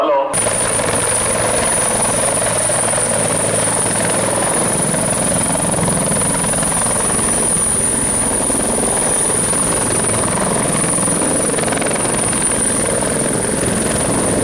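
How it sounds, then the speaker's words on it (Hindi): A helicopter lands on a helipad on an open ground. Its loud, continuous rotor and engine roar fills the whole stretch close by, with some voices mixed in underneath. "देखिए अभी हेलीकॉप्टर यहाँ पर उनका उतर चुका है हमारे सामने पीछे।"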